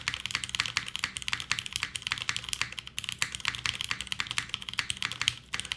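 Mechanical keyboard with 62.5 g springs, Cherry clip-in stabilizers, GMK keycaps and an aluminum top-mount plate, typed on steadily with rapid, crisp, evenly paced clacks, close and clear with no talking.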